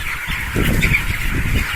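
Native country chickens cluck and squawk nearby in a brief burst of nasal, honking calls.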